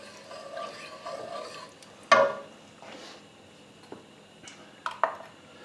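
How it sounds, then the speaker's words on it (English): A spoon stirs chicken stock in a pot of chicken meatball Thai soup, making soft scraping swirls punctuated by a few sharp clinks against the pot, fairly quiet and close. "Stir that around a little bit"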